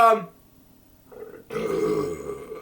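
A single loud, drawn-out burp close to the microphone after a brief quiet pause.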